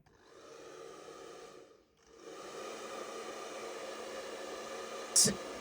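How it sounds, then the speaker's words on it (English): Lace wig being dried after alcohol cleaning, a steady airy blowing hiss that stops briefly, then resumes evenly, ending with a short sharp knock. "I'm going to dry it so that I can get rid of any alcohol or whatsoever"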